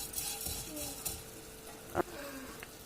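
Coriander seeds and other ingredients for gongura chutney fry in oil in a pan with a quiet, soft sizzle, broken by a few light clicks and scrapes of stirring.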